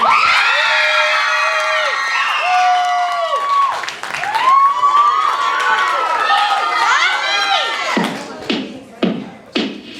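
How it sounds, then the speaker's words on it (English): A school assembly audience cheers and shouts, with children's high-pitched whoops and yells rising and falling, and then a few sharp bursts of clapping near the end. "please give a huge round of applause for Ania and a lady"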